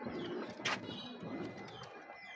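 Pigeons at a pigeon farm, including racing birds, give soft low cooing that runs steadily through the clip, with a brief flurry of rustling or wing movement midway; no one speaks.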